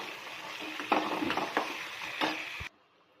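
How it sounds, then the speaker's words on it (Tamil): Onions sautéing in oil in a pan, a steady broadband sizzle with a few sharper stirring scrapes, close and fairly loud, cutting off abruptly near the end. "வெங்காயம் நல்லா வதங்கட்டும்"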